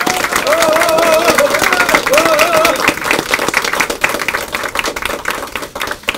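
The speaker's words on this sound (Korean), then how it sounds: "큰 박수로 환영해 주시기 바랍니다" A crowd at a 2019 New Year's party gathering claps loudly and continuously to welcome the party leader, Sohn Hak-kyu. The dense clapping thins out toward the end, and voices can be heard faintly beneath it.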